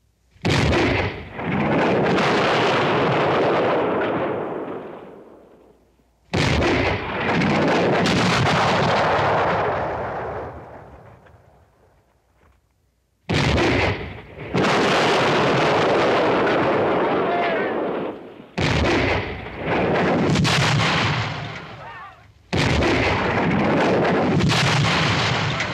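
Artillery cannons firing in a western battle scene: several long, heavy booms rolling out one after another with gaps between them, loud and reverberant.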